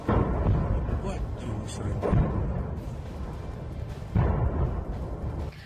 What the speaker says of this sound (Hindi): आग लगते ही यहाँ रह कर हो रहे धमाकों की आवाज दूर तक सुनाई दे रही थी।